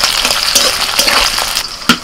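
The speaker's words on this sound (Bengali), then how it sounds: "এবার এগুলোকে একসাথে একটু ভেজে নেব।" Onion, garlic, ginger and green chilli frying together in hot oil, a steady close sizzle with occasional stirring scrapes and a sharp spatter near the end.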